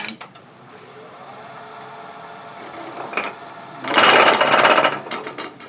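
A wood lathe spins a turned piece held on a jam chuck, giving a steady mechanical hum, then a loud, rough burst of tool cutting for about a second before it eases off.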